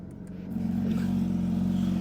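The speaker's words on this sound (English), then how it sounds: "now you can really hear that engine" A warmed-up Porsche 991.1 GT3 RS engine swells from a lower idle into a steady, loud, close rev that holds a strong, even drone.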